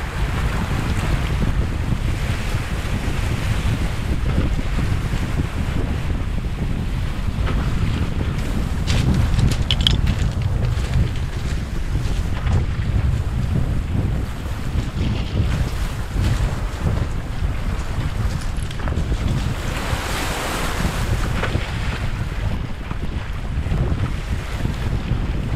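Steady wind gusting across a wild lake shore during spring wilderness camping, loud buffeting against the microphone with a wash of water underneath, constant for the whole stretch and no voices.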